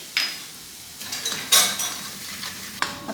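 Bombay rava semolina roasting in ghee in a kadai, brief metallic scrapes and clinks of a spoon against the pan over a faint sizzle, close and with no talking.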